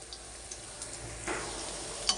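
Lentil fritters (dal bora) fry crisply in hot oil in a pan, giving a soft continuous sizzle with a few faint ticks and one brief sharper clink near the end.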